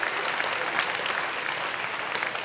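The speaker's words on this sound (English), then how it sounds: "let's give our sponsors a great round of applause" Audience at a legal panel event gives a round of applause, dense even clapping filling the moment without voices.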